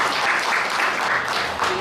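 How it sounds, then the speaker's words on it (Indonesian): Audience applause at an annual cooperative members' meeting in Kediri, a dense, steady wash of many hands clapping that stays loud and even throughout, with no clear voices on top. "Kasih tepuk tangan. Kasih tepuk tangan satu lagi Pak."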